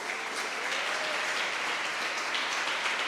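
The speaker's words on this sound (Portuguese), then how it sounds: "Aplauda ao Senhor, glória a Deus." Congregation clapping in a church service, a steady, dense wash of applause filling the room with no break throughout.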